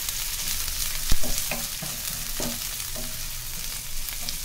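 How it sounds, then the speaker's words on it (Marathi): Onions and garlic hit hot oil over high flame, giving a bright continuous sizzle with a sharp clack and several stirring scrapes, close by and without speech. "तेल गरम झालं की आपण जे कांदे घेतले ते घालतोय. लसूण घालतोय."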